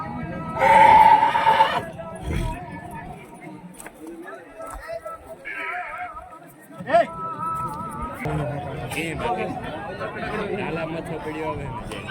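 Marwari horses at a horse race ring in Hathla whinny and neigh loudly in repeated bursts, with hoof clatter and a crowd chattering throughout.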